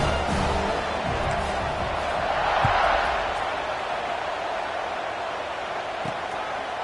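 A stadium crowd in an American football video game cheers during a kickoff, a steady roar of massed voices that swells briefly around the middle and then settles back to a constant din.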